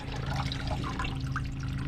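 Water drips and trickles from a camper's fresh water tank drain onto the ground beneath the trailer, a steady close wet patter with no voices.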